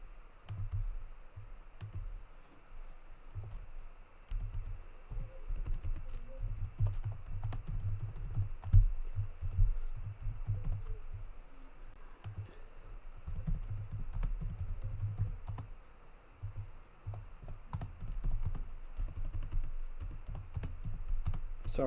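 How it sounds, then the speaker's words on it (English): A computer keyboard clatters with continuous typing for a Discord message. The quick irregular keystrokes and clicks are close and fairly loud, broken by brief pauses, with no talking over them. "I'm just typing something into my Discord server"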